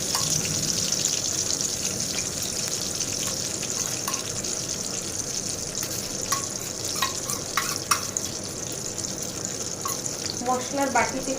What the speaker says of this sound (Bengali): মশলার বাটিতে একটু জল দেবো